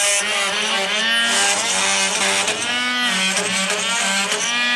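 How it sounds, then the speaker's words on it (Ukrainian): A Dnipro-M MF 42 oscillating multitool fitted with a WM65 blade cuts through nails, giving a loud, buzzing mechanical whine that wavers in pitch as the blade bites and eases, with no voices over it. "Серйозне тестування мережевого реноватора mf 42 seq та лопатки WM65."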